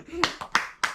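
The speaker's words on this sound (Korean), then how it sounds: "박수 세번" Hands clap three times in a quick, even rhythm, sharp and close, with a voice speaking just before and between the claps.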